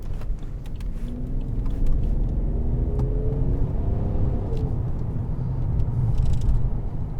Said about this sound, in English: It's a kind of almost synthetic sounding tone with a delicate hint of almost Lamborghini V12 in the background